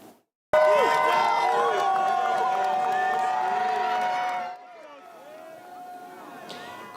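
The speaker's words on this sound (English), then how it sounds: "Crowds of fans cheered on the Huskies as they got on the bus to head to Houston for the Final Four." Fans cheer and whoop as the UConn Huskies board the bus in Storrs for the Final Four send-off, a loud crowd roar that drops off after a few seconds to lighter scattered cheering.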